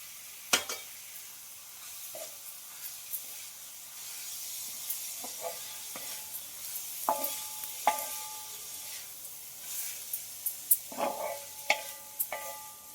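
Grated coconut roasting over low heat in a pan, stirred with a steady scraping and soft sizzle, broken by a few sharper clinks of the spoon against the pan, close and moderately quiet with no talking.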